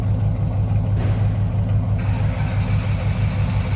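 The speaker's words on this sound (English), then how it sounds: "A little rumble coming out of that 350." A 1980 Chevrolet K10 4x4 pickup with a 350 V8 idles from the rear, a loud, steady low rumble with an even throb, heard close and alone.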